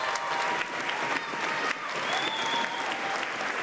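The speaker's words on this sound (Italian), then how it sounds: "Un applauso a tutti voi!" Audience applause fills a televised singing competition show, steady dense clapping from a crowd that stays at an even level throughout, with faint brief tones over it.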